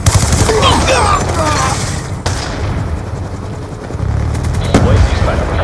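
Loud Black Ops II gunfire of rapid bursts and heavy booms in a chaotic video game battle, with radio-style voices talking over the shooting.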